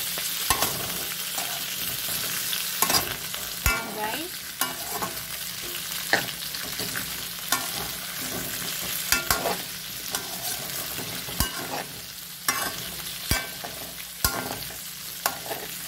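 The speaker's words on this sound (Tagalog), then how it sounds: "Ilagay na rin natin ang ating sibuyas at bawang." Onion and garlic sautéing for a chicken curry, a bright sizzle under repeated scraping and clanking stirs of a spatula in the pan, no voices.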